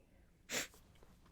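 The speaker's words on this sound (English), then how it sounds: "I have to sneeze." A single quick sneeze, soft and fairly distant, against near silence.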